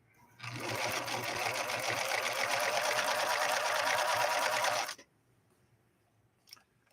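A Viking Husqvarna 3230 sewing machine, rescued after smoke and fire damage, stitches a zigzag in one loud, steady, fast mechanical whirr lasting several seconds, then stops abruptly, followed by a couple of faint clicks.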